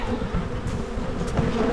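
A swarm of honeybees around a tree makes a dense, continuous buzzing hum, steady and fairly close, with no voices.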